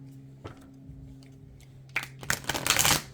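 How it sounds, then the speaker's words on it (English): Soft rustling and riffling of cards being shuffled, a faint tap early on, then a louder flurry of shuffling near the end, over a low hum. "So let me give them a few shuffles here."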